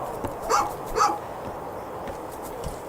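A dog in the A Juggler's Tale video game gives two sharp barks about half a second apart, close and clear over a low ambient background.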